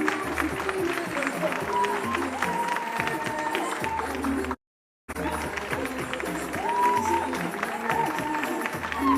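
Audience applause for a model on a fashion runway, sustained dense clapping that runs loud throughout, broken by one brief silent gap, with voices mixed in.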